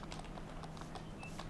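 Horse hooves clip-clopping in a vintage farming survival video game, a soft, steady run of hoof beats that stays faint and even under a low background hum.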